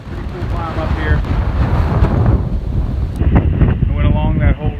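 Strong wind buffets the microphone on an exposed ridge along the Appalachian Trail, a steady loud roar with gusty swells throughout and no clear speech.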